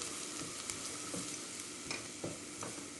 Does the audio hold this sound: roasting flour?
yes